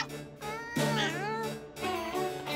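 A cartoon cat meows in a drawn-out, wavering, pitch-bending cry, loud and close, repeating over a couple of seconds.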